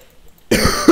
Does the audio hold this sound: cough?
yes